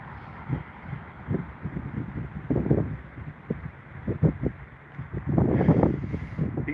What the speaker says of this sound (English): Yeah, there's a lot of wind, which is annoying.